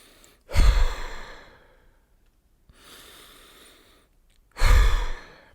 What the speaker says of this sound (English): I just need to do some breathing exercises.